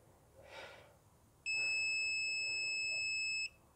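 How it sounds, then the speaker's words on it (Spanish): Electronic beeping from an automatic sensor controller on a homemade mobile chicken coop door, a single loud, steady, high-pitched tone held for about two seconds after a soft breath, then cut off. "Los diferentes pitidos indican los ajustes de los sensores que tenemos puestos."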